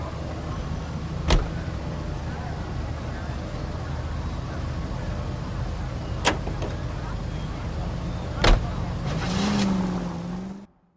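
Car driving in the video game L.A. Noire: a steady engine and road rumble runs throughout, broken by a few sharp clicks or thumps, with a rising whine near the end before it cuts out.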